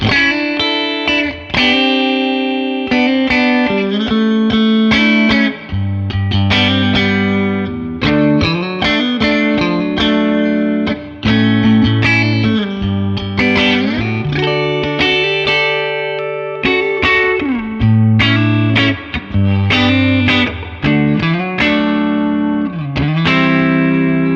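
Electric guitar in middle pickup position, Fender American Professional Classic, plays a melodic passage with effects, sustained distorted notes and chords ringing continuously, loud and close.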